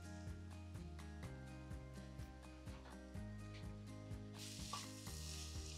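Masala with fenugreek leaves sizzles softly in a pan while a spoon scrapes and stirs in a regular rhythm, faint and close, over a steady musical hum, and the frying grows brighter near the end. No one speaks.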